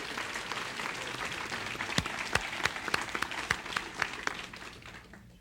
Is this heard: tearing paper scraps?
no